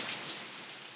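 Heavy Hurricane Irma rain in Palatka, Florida pours off a neighbouring roof during the eye wall, a loud, dense, steady hiss of water with no letup and no voices.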